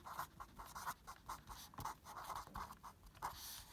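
Pen scratching out a mixed fraction by hand on paper, with quick short strokes in a busy, uneven rhythm, faint and close with no speech.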